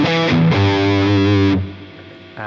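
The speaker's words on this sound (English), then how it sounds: "I also think this could be a candidate for a cool lead tone, so what I'll do is turn the mids up for the lead tone." An electric guitar plays a lead tone through a Helix amp model with distortion and the mids raised, a loud sustained note ringing about a second before cutting off and decaying.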